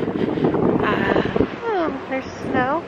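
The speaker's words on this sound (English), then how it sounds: "Sorry if it's super windy." Strong wind on an outdoor walkway bridge in Gatlinburg, Tennessee, blustering across the microphone as a steady rough roar, loud and close under a voice.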